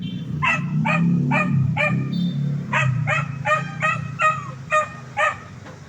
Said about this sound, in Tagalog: Ito yung ating aso mga kababayan na yun.